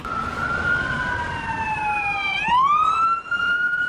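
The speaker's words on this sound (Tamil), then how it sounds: "ஆம்புலன்ஸ் சத்தம் போட்டுட்டானுவ" A wailing ambulance siren in a Tamil cartoon sweeps up and down in pitch, loud and fairly close, with steady traffic rumble underneath and no talking.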